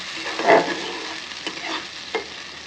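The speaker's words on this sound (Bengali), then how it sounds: "হাতে একটু সময় নিয়ে আস্তে আস্তে মশলাটা কষিয়ে নেব।" Spice paste sizzles in hot oil with a splash of water while being stirred, a soft continuous fry broken by a few scraping strokes of the spoon.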